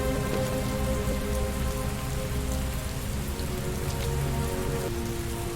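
Heavy rain pours steadily and densely in the video game Heavy Rain, a constant hiss of drops on surfaces with a low background hum and no voices.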